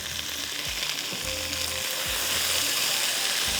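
Fish fries in hot oil with ginger, asafoetida and carom seeds, a loud, dense, continuous sizzle close up, with a few low thuds and clunks of the utensil underneath and no voices.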